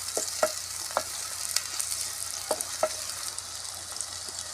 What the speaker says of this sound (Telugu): పచ్చిమిరపకాయలు వేసాను.